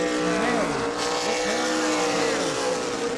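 Super Late Model stock cars racing on the New Smyrna oval, engines rising and falling in repeated sweeping whines as cars roar past, loud and continuous under a race commentator's voice.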